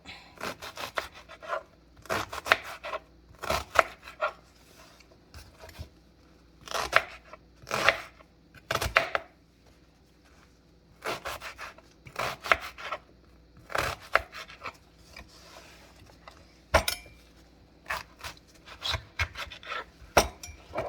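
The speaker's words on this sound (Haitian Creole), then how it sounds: "couper zonyon yo en petits morceaux" Onions being chopped into small pieces with a knife on a board: quick bursts of crisp, repeated strikes separated by short pauses, close and clear, with no talking.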